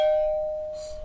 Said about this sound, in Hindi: अच्छा जाने में भी घंटी बजती क्या?